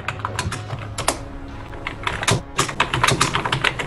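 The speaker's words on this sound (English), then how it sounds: "The typing is strong with this one." Someone types on a computer keyboard during a tabletop game session, producing bursts of rapid, close, crisp keystrokes with short pauses between flurries and no talking over them.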